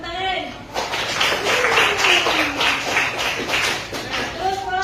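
A small group breaks into clapping after a short pause, with brisk, close, fairly loud applause that goes on steadily and then tapers off while a voice speaks over it.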